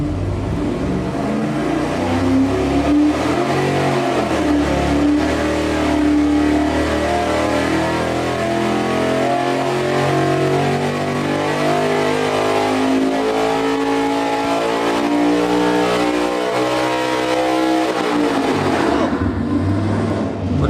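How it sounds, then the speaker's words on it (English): A supercharged V8 of over 1,000 horsepower, fitted with a new smaller blower pulley, roars through a long dyno pull, revving steadily upward at full, close volume before cutting off near the end. "So this is going to be our pull with our new smaller blower pulley and just a mechanical checkup, making sure that that engine's happy."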